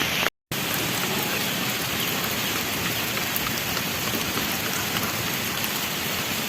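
Steady, dense rain pours down outdoors in Dalmia Nagar, Rohtas, Bihar, a constant loud hiss of drops on surfaces with no voices.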